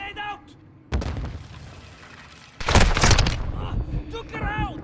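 Sudden loud blasts and bursts of gunfire in a Call of Duty: Modern Warfare II battle. A grenade booms at about one second, a second heavier blast follows, then rumbling and crackling, with voices shouting in between.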